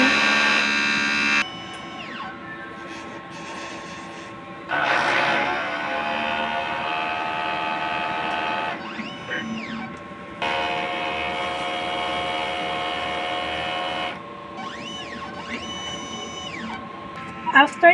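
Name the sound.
inkjet printer running head cleaning cycle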